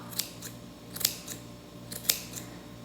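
Scissors snipping fluffy yarn for a craft yarn ball: three or four small, crisp close cuts spaced apart over a quiet background.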